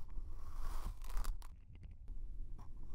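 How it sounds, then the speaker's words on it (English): Crunching and crackling textures from a satisfying clip, a run of dry brittle snaps and scraping bursts over a low rumble, close and moderately loud with brief quieter gaps. "Okay, maybe I heard that crunch."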